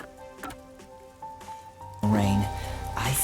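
Rain pours down on a neon-lit city street in the video game Rain Code, a soft steady hiss under quiet music tones that swells abruptly louder halfway through.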